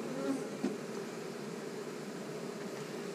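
Honeybees buzz inside the honey super of a beehive, a continuous close hum with faint passing drones over a steady background.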